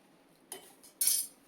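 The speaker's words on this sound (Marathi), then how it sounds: "मी एकदा चमच्याने त्यांना ढवळते" A metal spoon clinks against a pot while stirring frozen peas in a home kitchen, two short scraping chinks a half second apart, close and fairly quiet over near silence.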